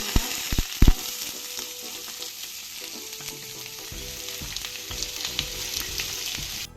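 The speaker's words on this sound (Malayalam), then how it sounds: "നമുക്ക് നന്നായിട്ടൊന്ന് വഴറ്റിയെടുക്കാം" Chopped onion, green chilies and curry leaves sautéing in oil in a pan for beetroot moru curry, with a steady close sizzle, a few sharp knocks at the start and soft scraping as the pieces are stirred.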